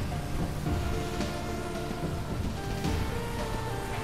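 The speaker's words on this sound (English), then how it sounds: "the acid rain actually works" Acid rain in a Roblox natural disaster survival game: a steady, dense hiss of falling rain fills the whole stretch at moderate level, with game music faintly beneath and no speech.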